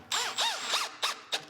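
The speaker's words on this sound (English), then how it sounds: "I'm using a tapered countersink drill bit into the plywood, so we're not splitting." A power drill with a tapered countersink bit bores into plywood for a miter station build, whining in several short bursts whose pitch rises and falls as the bit bites.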